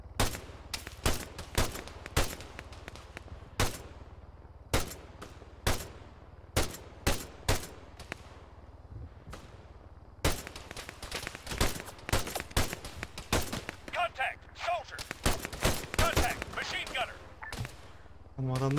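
Machine gun and rifle fire in Arma 3 combat, with sharp bursts and single shots cracking at irregular intervals, some near and loud, others more distant. Voices talk between the volleys.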